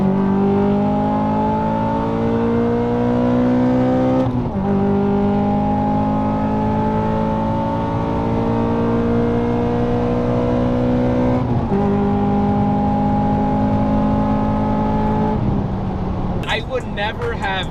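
A 2008 Honda Civic Si sedan pulls hard through the gears from inside the cabin, its engine climbing steadily in pitch with brief dips at each shift, loud and continuous, with a voice starting near the end.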